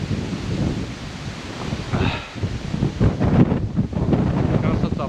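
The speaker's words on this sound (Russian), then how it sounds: "Да, ветер, конечно," Strong gusting wind at a lake during a stormy October feeder-fishing trip batters the microphone with loud, uneven roaring that rises and falls throughout.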